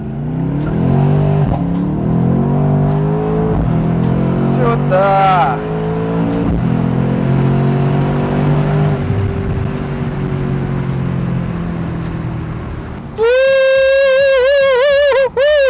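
Mercedes C63 AMG V8 cabriolet pulling away hard in Sport Plus mode, a deep rising engine roar climbing through the revs close up with a brief gear change, while people talk over it and a loud tone cuts in near the end.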